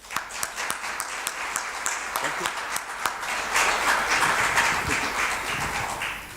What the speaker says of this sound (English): Please accompany me with applause.